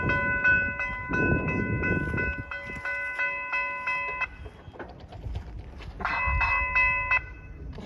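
A newly installed railroad crossing signal rings in steady, bright electronic tones, stopping and then resuming, over the low rumble of a passing train nearby outdoors.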